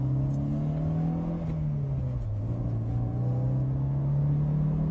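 A Mercedes-Benz 190E 2.3-16 on a race track, its engine droning loud and steady from inside the cabin, the pitch dipping briefly mid-lap and then climbing again under load.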